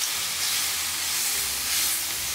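Cabbage and bacon stir-frying in a pan over high heat give a steady, loud, close hissing sizzle that swells slightly near the end, with no voices.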